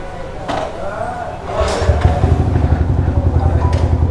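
A Yamaha R15 v3 motorcycle starts up and pulls away close by, its engine building into a steady throbbing rumble after someone speaks briefly beforehand.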